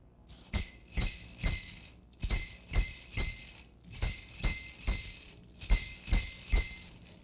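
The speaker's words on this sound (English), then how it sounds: "The mental castanet and rattle join the gong with this rhythm." A metal castanet and rattle in West African percussion tap out a steady clave-like rhythm, with bright metallic clicks grouped in repeating bursts of three or four, fairly faint and with no voices.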